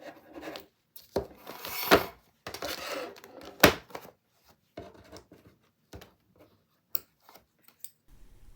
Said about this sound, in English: Don't cut too close to stitches, just cut around to trim the vinyl.